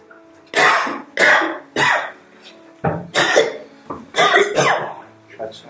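A man with a cough and fever at a doctor's visit coughs and clears his throat in a string of harsh, close bursts, about six or seven separate coughs with short gaps between them.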